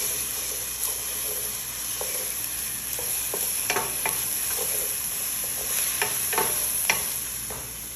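Spoon stirring tomato paste through a Filipino fish stew in a pan, steady sizzle and hiss underneath with scattered scraping strokes and soft knocks, close and continuous.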